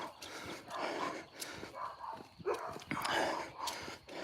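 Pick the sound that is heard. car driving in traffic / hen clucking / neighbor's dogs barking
neighbor's dogs barking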